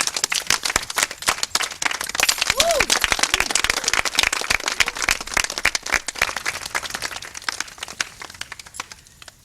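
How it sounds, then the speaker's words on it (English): Guests at a wedding anniversary party break into sustained applause, a dense wash of many hands clapping that holds steady for several seconds before slowly thinning out, with faint murmured voices mixed in. "Please give us a round of applause."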